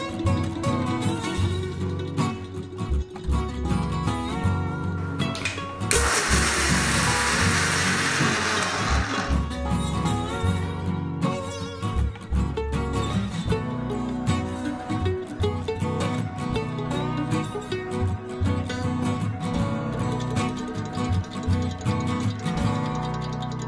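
Mixer grinder whirring as it grinds dried baby shrimp with rock salt into idli powder, a steady loud motor drone throughout with a brighter burst of grinding noise for a few seconds near the start.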